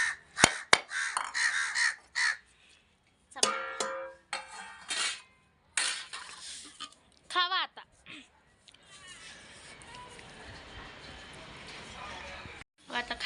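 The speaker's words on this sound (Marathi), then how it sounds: "लगेचच कावळे आले टेरेस वरती" Several harsh crow caws ring out in short bursts on a terrace, some overlapping, with a human voice and light clatter mixed in before a softer background hiss.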